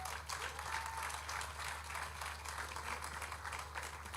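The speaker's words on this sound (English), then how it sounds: "Please keep clapping." Audience applause at a tech conference in Abuja: a quiet, steady patter of many hands clapping from a distance, continuous for the full few seconds with no talk over it.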